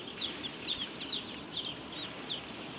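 Day-old broiler chicks in a closed-house poultry shed give repeated high, thin peeps in quick overlapping bursts, fairly faint over a constant hum of ventilation fans.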